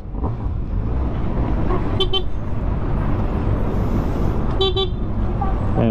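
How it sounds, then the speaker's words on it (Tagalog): Two short honks from a 2024 Kawasaki ZX6R motorcycle horn, each a quick double beep, over a rumbling idling engine and nearby traffic noise. "Busina muna tayo, busina."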